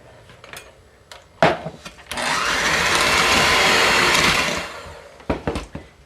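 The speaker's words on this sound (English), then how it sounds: "we're going to cream together a half a cup of butter" Electric mixer creaming half a cup of butter with a cup of white sugar for a lemon loaf, whirring steadily for about two and a half seconds after a few kitchen clatters, then stopping amid more light knocks.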